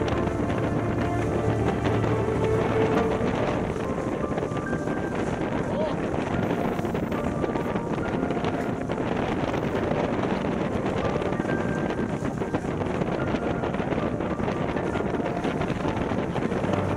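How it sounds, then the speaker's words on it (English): Gusting wind buffets the microphone aboard a multihull sailboat racing upwind, a loud, continuous rumbling roar with rushing water beneath it, steady throughout the stretch. "We get some great gusts."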